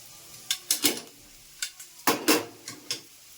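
Boiled cluster beans are stirred into a tempering in a pan, with a series of separate scraping and clinking strokes of a spatula against the pan, close and sharp over a faint sizzle, no talking.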